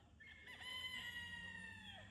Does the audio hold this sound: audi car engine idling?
no